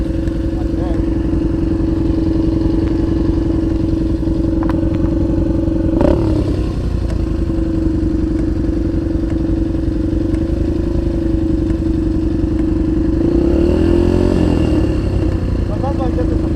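A motorcycle engine drones loudly and steadily while riding, rising in a brief rev and acceleration near the end, with a rider talking over the engine noise.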